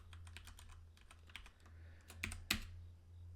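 Keystrokes on a computer keyboard while entering PowerShell parameter code, a quick uneven run of light clicks that ends in a couple of louder, sharper taps, heard alone over a low steady hum.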